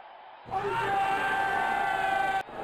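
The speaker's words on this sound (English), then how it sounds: "Crowd is going crazy." A stadium crowd in the Real Cricket 25 cricket video game roars in a sustained burst of cheering lasting about two seconds, starting and stopping abruptly, moderately loud.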